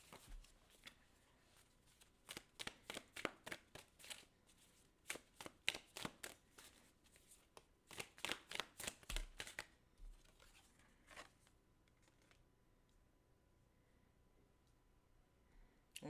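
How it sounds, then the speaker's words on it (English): Tarot cards are shuffled close by in quick riffling bursts, with pauses between the flurries and a short quiet stretch at the end. "Let me pull some clarifying cards for my Scorpios"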